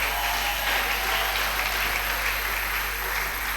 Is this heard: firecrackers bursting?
no